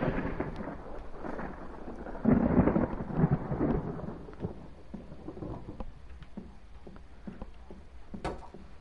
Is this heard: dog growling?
no